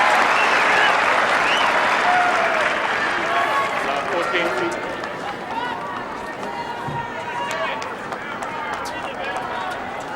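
A tennis crowd at a 2002 Indian Wells semifinal cheers and applauds loudly, dense clapping with excited shouts that gradually eases over ten seconds while voices chatter through it.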